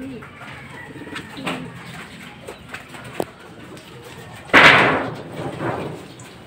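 Racing pigeons arriving back at the loft after a fun race, with soft cooing and a sudden burst of wing flapping near the end, mixed with light background noise.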